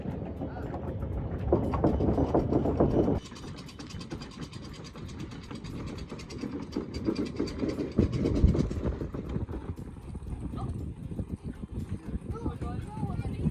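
A fishing boat motor runs with a steady rumbling drone at sea in the northern monsoon season, mixed with wind buffeting and people talking nearby over the engine noise.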